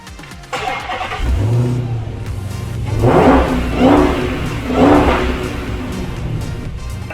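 Dodge Hellcat engine loud and close, revving up from idle and then accelerating hard through three surging pulls, each a rising roar with a deep rumbling exhaust note.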